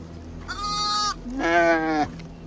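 Two drawn-out goat bleats, each about half a second, close to the microphone with a short pause between them and a faint background hum.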